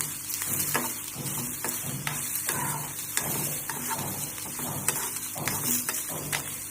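Cluster beans roast in a little oil with a few cumin seeds, a steady close sizzle broken by regular scraping clicks of a spoon against the pan.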